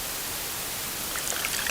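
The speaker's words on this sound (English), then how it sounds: "Listen to that endless pour." Pepsi Zero Sugar cola pours in a steady, continuous fizzing stream, soft and close, with no voices.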